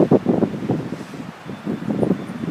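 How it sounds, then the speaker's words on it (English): Gusty wind buffets the microphone in low rumbling bursts, rising and falling, with a brief lull in the middle. "Windy day today."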